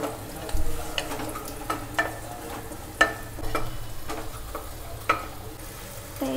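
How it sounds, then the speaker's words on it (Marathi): Soaked dal being stirred in a pan with turmeric, salt and ginger, a spoon scraping and clinking against the metal in irregular strokes over a soft sizzle, close and moderately quiet, with no voices. "सगळं मिक्स करून घेऊया"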